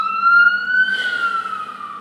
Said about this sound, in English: there's ambulance going by